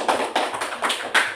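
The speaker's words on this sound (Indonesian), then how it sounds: "Tepuk tangan untuk kelompok 5." Applause for a student group in a classroom lesson, heard as several short bursts of clapping at fairly close range, rising and falling in quick waves with no talk over it.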